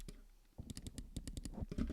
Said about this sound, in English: Now I guarantee you I'm clicking.